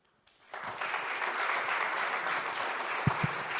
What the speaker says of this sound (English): Extra big applause for that extra 10 seconds.